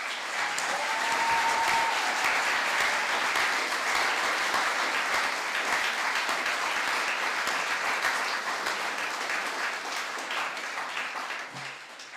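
Sustained audience applause at a school music concert fills the hall, a dense steady clatter of many hands clapping for the full length and tapering off at the very end.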